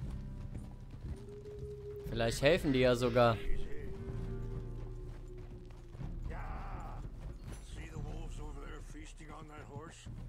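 Horse hooves clip-clop at a steady walk in Red Dead Redemption II, with brief neighing and orchestral music while people talk over the hoofbeats.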